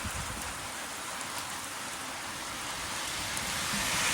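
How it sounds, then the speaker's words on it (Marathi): Heavy, steady rain pours down in a constant broadband hiss, loud and unbroken throughout. "कसा वाटतोय पाऊस."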